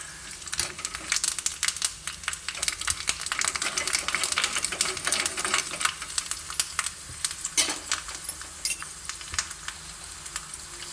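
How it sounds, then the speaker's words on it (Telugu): Mustard seeds and other tempering spices crackle and sizzle in hot oil, a dense, steady spitting with occasional sharper pops, close and fairly loud. "పోపు వేగిపోయింది."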